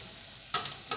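Puff puff dough frying in hot oil, a soft constant sizzle broken by brief louder bursts as the balls are turned and stirred, close and alone.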